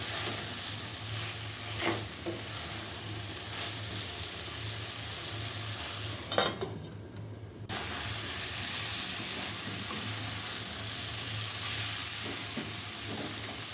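Flat beans with dried fish fry in an open pan, a steady low sizzle and hiss with occasional stirring clicks and a brief scrape midway.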